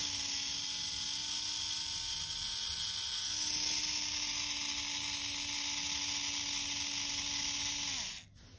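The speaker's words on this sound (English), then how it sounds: "It can run the DC motor very, very fast." A small DC motor powered by a homemade lead-acid battery spins very fast with a steady, high, buzzing whine for about eight seconds, then winds down and stops, with no talk.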